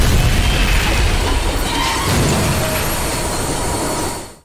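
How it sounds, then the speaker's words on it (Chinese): Train approaching and crashing into an ambulance in a crime drama scene: a loud, sustained roaring rumble of rail noise with a heavy impact, then fading out abruptly at the end. "眼看着火车离他们越来越近"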